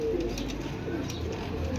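Pigeons at a bird sale coo steadily in a low, rumbling drone, close and fairly loud, with no talking over it.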